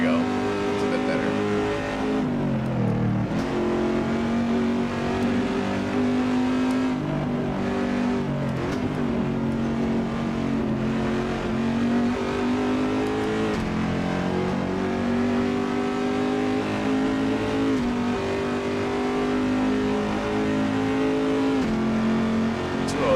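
Engine drone of a race car in the Assetto Corsa driving game, a continuous steady roar with shifting pitch as the car accelerates and slows through corners, with someone talking over it.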